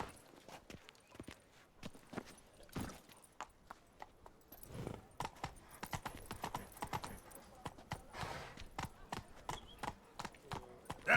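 Roach the horse's hooves clip-clop in rapid galloping beats in Witcher 3: Blood and Wine, a busy close rhythm with occasional soft voices underneath.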